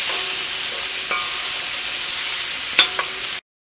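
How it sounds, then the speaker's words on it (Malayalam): Tomatoes being stirred in a pan while cooking broken wheat upma give a steady sizzle with a few spoon scrapes near the end, then the sound cuts out abruptly. "ഇതേപോലെ ഇളക്കി കൊടുക്കുക"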